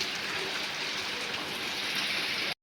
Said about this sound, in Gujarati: તો હવે વરસાદ ચાલુ થઈ ગયો છે.